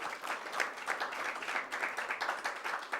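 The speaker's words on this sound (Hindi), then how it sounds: "एक बार ताली बजा करके उन सभी।" Audience clapping at a Jain religious talk about Ayodhya pilgrimage sites, a dense, steady spread of many hands throughout, moderately loud and without voices.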